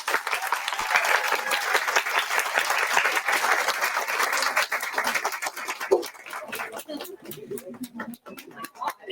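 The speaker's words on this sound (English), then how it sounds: "let's give them a nice round of applause" Audience applause at a virtual author event, a dense wash of clapping that holds strong for about six seconds and then thins into scattered, fading claps.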